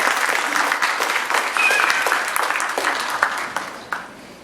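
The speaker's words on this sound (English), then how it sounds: "Please give everybody a round of applause for doing this." At the opening of a 60-hour throwathon, a crowd claps loudly and continuously, the dense applause holding steady before tapering slightly near the end.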